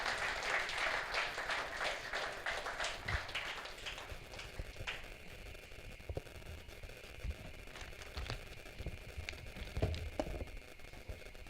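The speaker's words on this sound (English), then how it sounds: "Please, can you give him a resounding sound of applause?" Audience at an NBA Ikeja branch International Human Rights Day event claps steadily in a dense, sustained round that slowly thins toward the end, with no talk.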